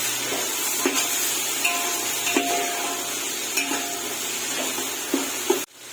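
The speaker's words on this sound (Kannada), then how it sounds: "ಇವಾಗ ಪುದೀನ ಕೊತ್ತಂಬರಿನ ಸಣ್ಣದಾಗಿ ಹೆಚ್ಚಿಕೊಂಡು ಹಾಕೊಂಡು ಫ್ರೈ ಮಾಡ್ಕೋಬೇಕು" Chopped mint and coriander fry in a pan for chicken biryani, a steady close sizzle with several light stirring scrapes and clicks of a utensil, no voices, ending in a sudden cut.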